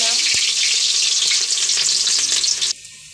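Spice paste hits hot oil with meat and bay leaf in a pan for biryani, giving a loud, steady, close frying sizzle that cuts off abruptly near the end.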